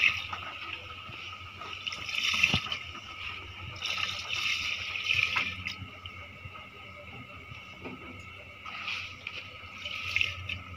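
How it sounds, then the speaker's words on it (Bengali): Rice for biryani is swished and rinsed in water by hand, giving a soft, continuous sloshing and trickling with a few brief splashes, close but quiet. "চালটাকে আমি ধুয়ে আনছি সুন্দর করে"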